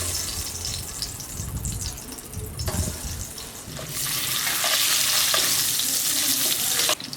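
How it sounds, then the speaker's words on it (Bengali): Eggs rubbed with salt and turmeric fry in a little oil in a kadai for restaurant-style egg curry, making a close, continuous sizzle that swells louder partway through, with a sharp clatter near the end. "কড়াইতে অল্প পরিমাণ তেল দিয়ে দেবো ডিমটা ভেজে নেওয়ার জন্য।"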